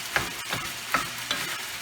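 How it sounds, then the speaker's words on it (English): Food frying in a pan over high heat while it is stirred and broken up, a steady sizzle broken by a few sharp scraping strokes about every half second. "just frying that up, breaking it down, warming it through, keep it moving, don't let it sit, have it up on high"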